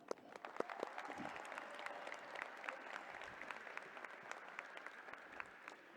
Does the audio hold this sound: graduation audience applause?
yes